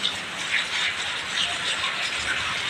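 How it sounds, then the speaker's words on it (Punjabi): Heavy rain pours down in a steady, dense hiss that holds an even level throughout, with no voices or other distinct sounds. "ਇਸ ਤਰ੍ਹਾਂ ਮੀਂਹ ਬਹੁਤ ਪੈ ਰਿਹਾ"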